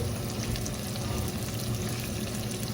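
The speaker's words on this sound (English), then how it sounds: "I'm going to add my chili." Chopped jalapeno chilies hit a hot pan over a medium-high flame, crackling in a dense, steady sizzle of frying oil close by.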